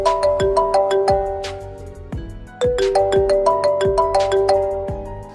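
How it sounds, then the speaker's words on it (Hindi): A mobile phone plays a bright, repeating electronic ringtone melody, loud and close, with the chiming phrase cycling twice with no other sound. "तुम्हारा फोन बज रहा है।"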